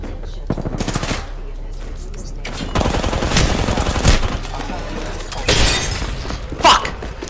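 Window glass shatters in the Apex Legends battle royale game, a sharp crash of breaking panes mixed with rapid gunfire bursts; the clashing impacts come close and loud in a dense, noisy firefight.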